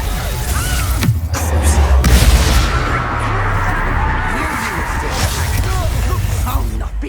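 A Confringo spell in Hogwarts Legacy, a fiery blast in combat: a dense, roaring burst with booming low rumble sustained for several seconds, with voices shouting amid the fight.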